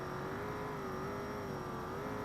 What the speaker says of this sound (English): he's just panic revving and holding that throttle all the way down